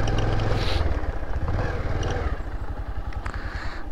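A loaded Honda Dio scooter strains on a cold mountain road between Marpha and Ghami, its engine drone loud and close with rapid pulsing firing and some rattling clatter throughout.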